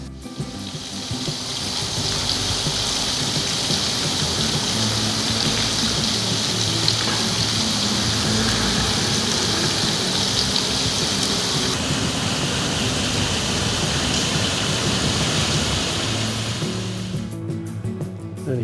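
Water from an underground river rushes steadily beneath a manhole cover in a Tokyo street, a continuous near, loud flowing wash that holds at an even level throughout and fades away at the end.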